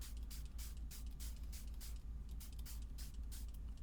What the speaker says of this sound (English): I'm just going to give it a spray all over.